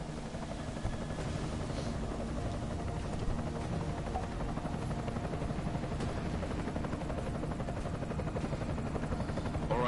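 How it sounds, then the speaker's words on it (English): An enemy helicopter in the video game Deus Ex: Mankind Divided gives off a continuous, even rotor-and-engine drone at moderate loudness, holding steady throughout with no voices. "Enemy helo sighted."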